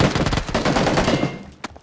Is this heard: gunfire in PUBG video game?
yes